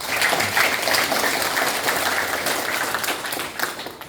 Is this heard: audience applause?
yes